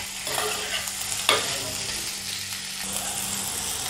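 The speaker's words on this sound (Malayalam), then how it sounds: "മുരിങ്ങക്കായ ഇട്ട് കൊടുത്തിട്ടുണ്ട്. അത് ഇതിനകത്തൊന്ന് നല്ലപോലെ ഇട്ടൊന്ന് വഴറ്റിയെടുക്കണം" Chopped drumsticks and onion sauté in a pan, a steady sizzle and frying crackle with a sharp scrape of stirring partway through, close and continuous with no talking.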